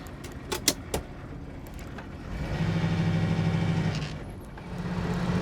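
A 1968 Chevrolet Camaro idles smoothly with a low, steady engine hum. A few sharp clicks and knocks come first, then the idle settles in clearly at close range.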